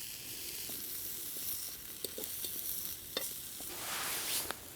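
Steak sizzles in a pan at a woodland campsite, a continuous soft hiss and crackle with a few sharp pops and spits, fairly quiet and heard up close.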